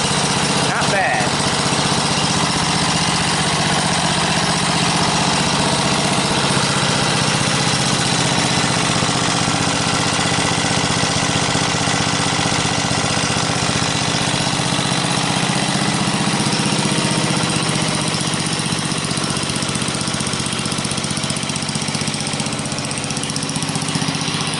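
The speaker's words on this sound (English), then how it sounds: "Not bad for a, what is it, 63-year-old generator?" Sixty-three-year-old Briggs and Stratton engine running an RCA generator, a steady loud chugging drone close by with no pauses throughout.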